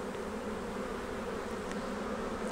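A dense hum of honey bees from a swarm fills the air, steady and close, with individual buzzes passing near now and then.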